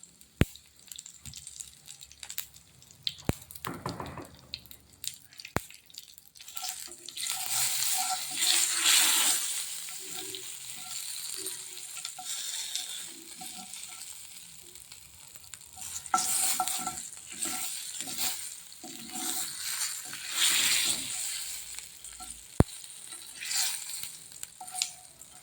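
Dried red chillies, curry leaves and fenugreek frying in coconut oil in a pan for theeyal, a steady sizzle with stirring scrapes and brief louder bursts as ingredients hit the hot oil, close and alone.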